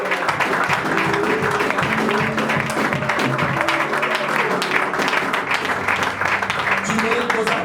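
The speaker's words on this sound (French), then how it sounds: "Acclamons pour Jésus." A church congregation applauds and acclaims Jesus during worship, a constant wash of clapping mixed with raised voices and cheering calls, held at a full, steady level throughout.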